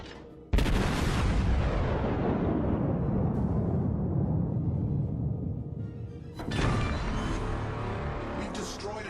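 Heavy battleship guns firing in the naval combat game World of Warships: a sudden loud booming salvo that rumbles and slowly decays, followed by a second blast about six seconds later, with no talking.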